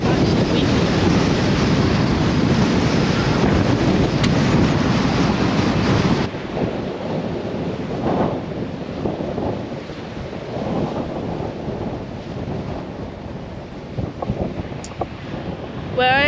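Strong coastal wind at Somerset on Cape York roars and buffets the microphone in a loud, continuous rush, heaviest over the first six seconds, then easing slightly with surf-like swells beneath.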